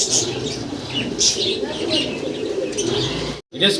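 Pigeons coo and flutter nearby in a pigeon seller's loft among pairs of breeding birds, soft repeated calls and occasional wing sounds mixed with someone talking over them and a brief dropout near the end.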